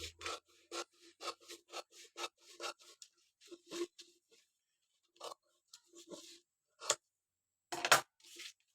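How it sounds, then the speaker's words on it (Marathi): Scissors cut a paper pattern for a katori blouse, tracing the curved neckline: a close series of quick, crisp snips with short gaps, then scattered cuts after a pause, with no voices. "इथून तुम्हाला जो काही तुमचा गोलगाळा आहे याची कटिंग करून घ्यायची"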